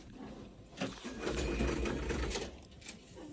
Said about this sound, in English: Printer sounds good.